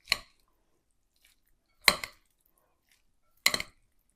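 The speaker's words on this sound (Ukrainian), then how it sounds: "і все це ретельно перемішуємо" Three short, crisp clattering scrapes, evenly spaced about two seconds apart, as two spoons toss dressed Chinese cabbage salad in a bowl, with quiet in between.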